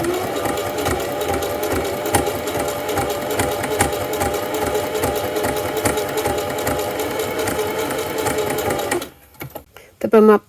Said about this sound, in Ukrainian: Спочатку обмітуємо боковий шов, там, де знаходиться карман.